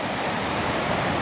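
Waves break on a windy beach in a steady, full roar of surf mixed with gusting wind, close and continuous with no talking.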